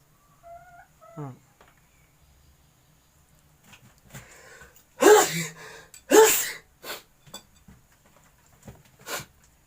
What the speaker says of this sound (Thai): จามเลยครับ